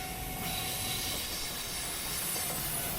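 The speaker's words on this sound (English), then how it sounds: "And another freight train up the gradient" Freight train climbing the Senohachi gradient at Bandohara, a steady broad hiss and grinding roar of wheels and engine, moderately distant and unbroken throughout.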